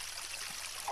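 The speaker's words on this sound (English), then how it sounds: "It's just above that little spring there, that's with water pouring out of it." Water pours from a small spring in The Legend of Zelda: Ocarina of Time, a brief, steady trickling stream with no voices over it.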